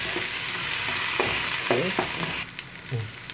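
Onions sauté in a pan for a Kerala-style mutton curry, a continuous close sizzle broken by a few scraping stirs and knocks, the frying quieting slightly near the end.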